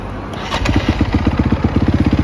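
A 2005 Honda CRF250X dirt bike engine catches on its electric starter and settles into a rapid, even, close-up thumping idle, with nobody speaking.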